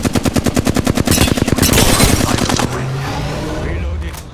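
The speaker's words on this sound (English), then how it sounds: "Firing." Gunfire in the video game Apex Legends: a loud, close burst of rapid automatic shots in an even, fast rhythm for about two and a half seconds, trailing into a softer rumbling tail.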